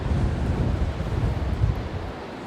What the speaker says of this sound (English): Wind coming directly behind me here.